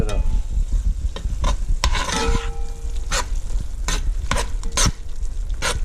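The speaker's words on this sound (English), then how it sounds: "And I'm gonna mix it up." A spoon stirs a pot of chili made with five-year-old jarred meat and beans, giving close scraping strokes and clinks against the pot in an uneven rhythm over a low simmering sizzle, with no speech.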